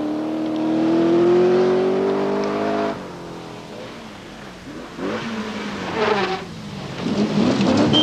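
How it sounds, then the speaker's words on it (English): Triumph TR7 V8 rally car on a forest stage of the 1979 Scottish Rally, its engine note rising loudly at close range, then dropping and returning in bursts as it shifts and passes. "Per Eklund in the quick and very quiet Triumph TR7 V8 is working hard in 10th position"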